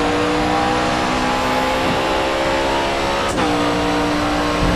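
A Pagani Huayra race car in GRID Autosport at Spa-Francorchamps holds a steady, loud engine drone with one brief shift partway through, and no talk.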